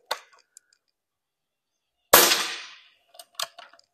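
A sharp, loud crack of an air rifle shot firing a 6.35mm, 47-grain pellet rings out and decays, followed by a few quicker, fainter metallic snaps and clicks.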